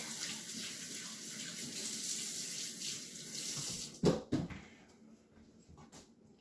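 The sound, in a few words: water running from tap to wet hands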